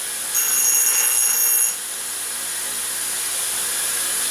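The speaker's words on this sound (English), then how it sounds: "You should never ever grind on the side of a grindstone." Metal is ground on the side of a grindstone while reworking a VW cylinder head, a high, bright whine that starts abruptly, holds steady for about a second and a half, then drops back to the motor's continuous hum.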